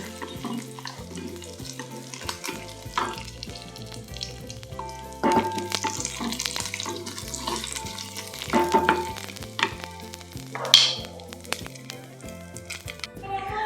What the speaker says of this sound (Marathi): बदाम आणि बेदाणे आणि हे एखाद मिनटासाठी एखाद दुसऱ्या मिनटासाठी भाजून घेऊया